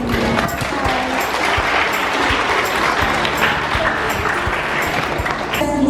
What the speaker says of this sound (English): A round of applause for Imabelle City Kraft.